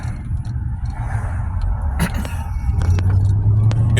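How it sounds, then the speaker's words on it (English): A small car drives by outdoors, its tyre and engine rumble fairly close and loud, swelling toward the end. "So I'm just watching a little car go by there."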